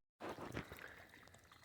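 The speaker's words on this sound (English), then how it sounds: "I've got my garden hose put down into my outlet on my radiator, and I got water running through the inlet side" Water from a garden hose pours and trickles through the radiator of a car, apparently a Chevy S10, flowing steadily and close by after a sudden start, with no talking.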